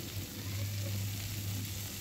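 Fish frying in a pan, giving a steady, soft sizzling hiss that continues evenly throughout.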